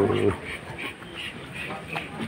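Ducks quacking at a fish pond farm that also keeps goats and chickens, a series of short nasal calls repeating at moderate distance, with a voice briefly heard at the start.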